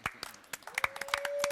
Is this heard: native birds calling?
no